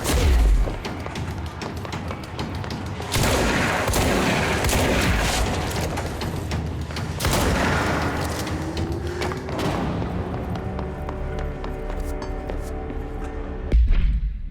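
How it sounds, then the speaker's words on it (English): A shotgun fires in combat in the video game Control, heavy booms and thuds landing over a dense mix of game effects, loud and close, with several blasts spread through the stretch and no talking. "Shotgun to the face!"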